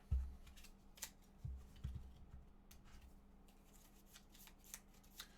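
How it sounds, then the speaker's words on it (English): Gloomhaven board game cards shuffled by hand at close range: quiet riffling and soft taps broken by a few separate sharp snaps, with no talking. "We'll then shuffle these back."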